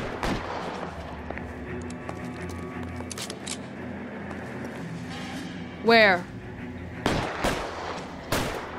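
Gunfire in the video game L.A. Noire, with sharp shots scattered through the scene, a loud burst near the middle and more shots toward the end, while someone talks over the action.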